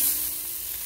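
A brief, steady sizzle from a curry of potato, flat beans and eggplant cooking in a pan, close and moderately loud with no voices.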